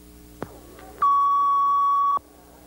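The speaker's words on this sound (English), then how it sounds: "Second beep." A single sustained electronic sync beep marks the start of a filmed jazz guitar session. A short click comes first, then the steady, loud, pure tone holds for about a second before cutting off cleanly.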